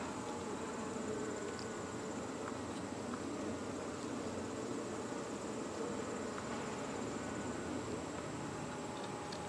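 Honeybees buzzing during a hive inspection for a summer varroa mite alcohol wash, a faint, continuous insect drone with no speech.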